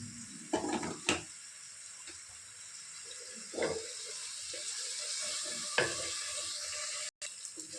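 Ingredients for paneer cashew masala fry in a pan with a constant soft sizzling hiss, broken by a few louder clatters and scrapes of stirring, moderately quiet.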